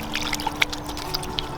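Hands being rubbed and washed with soap and water outdoors in a garden, a soft wet splashing and trickling with small drips, close and fairly quiet, no talking.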